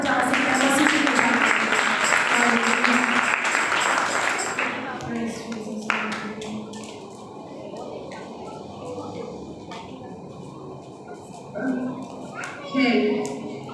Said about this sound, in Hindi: आप जोरदार तालियां बजा सकते हैं मसीह की कृपा।